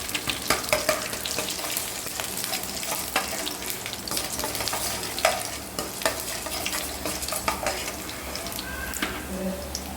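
Ginger and garlic fry and sizzle steadily in a pan, with frequent stirring scrapes and light utensil clinks throughout, close and continuous.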